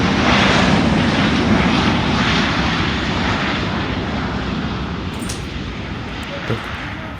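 A fixed-wing airliner landing and taxiing at RDU airport produces a loud, close engine roar that slowly fades and eases over several seconds, a steady broad drone with no talk.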